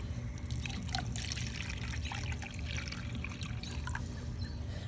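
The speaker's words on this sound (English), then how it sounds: "you're gonna just pour however much you want to add to your pool." Muriatic acid is poured into a bucket for pool treatment, giving a steady close trickle of liquid over a constant outdoor background hum.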